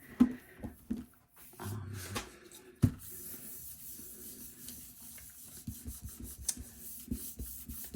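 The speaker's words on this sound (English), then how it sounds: "I do have my plastic sheet on my jelly plate, so I can rub easily across it and get good contact." Hand rubbing steadily across a plastic sheet laid over a gelli printing plate during acrylic mixed-media printmaking, producing close, continuous dry scraping and rasping with a few sharper knocks along the way.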